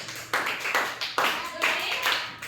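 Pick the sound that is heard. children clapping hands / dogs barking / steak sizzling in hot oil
children clapping hands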